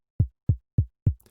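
Synthesized kick drum run through shaper distortion in Rapid, four punchy low thumps in an even rhythm with a slightly crunchy edge, loud and close, followed by a brief faint trailing noise.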